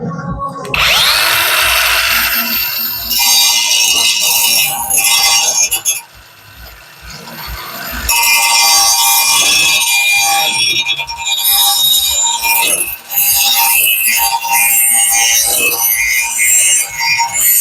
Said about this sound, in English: let's test this filing machine and see how it works